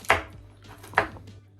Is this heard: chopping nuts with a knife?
yes